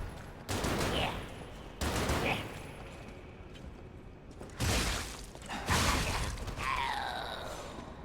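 Machine-gun bursts from an old man enemy in the video game Lies of P come in several loud, sharp volleys separated by short pauses, with mechanical clatter and a faint whine trailing off.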